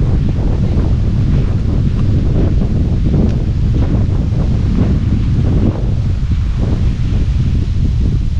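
Strong wind buffets the countryside in a steady, loud, unbroken roar with low rumbling gusts, as though blowing across the microphone, and no voices are heard.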